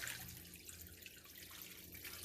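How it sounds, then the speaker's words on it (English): Water poured into a cooking pot of seasoned oxtail, a continuous soft splashing and trickling stream heard close and fairly quiet, with no talking. "And then you're going to add the water."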